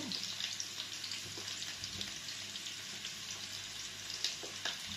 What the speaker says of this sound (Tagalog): Ihulog na po natin ang ating sibuyas po.